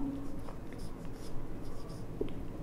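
Writing on a board during an accounting lesson: soft, scratchy strokes at a steady pace, close and moderately loud, with a few brief voice sounds from the teacher.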